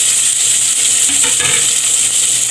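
Onions and tomatoes sautéing in a pan for miso sinigang with maya-maya fish, a steady close sizzle and fry with a brief stir around the middle, no talk.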